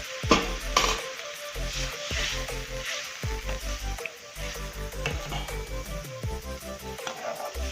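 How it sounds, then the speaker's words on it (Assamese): Hot water hits frying potato curry in a pan, setting off a loud, continuous sizzle with bubbling and stirring scrapes throughout, no voices. "এতিয়া ইয়াত মই গৰম পানী অকণ ঢালি দিম"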